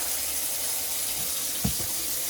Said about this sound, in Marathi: आता इकडे जर फिरवलं तर पूर्ण थंड पाणी येतं